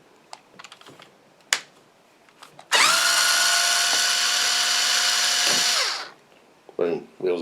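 An electric screwdriver whirs steadily for about three seconds as it removes an RC car wheel, sharp and fairly close, with a few clicks and handling noises before and after.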